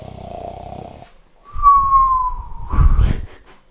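A loud, exaggerated snore with a whistling exhale, likely a person imitating snoring, followed by a rough snorting breath.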